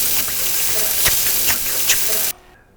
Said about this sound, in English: I saw that frying pan sizzling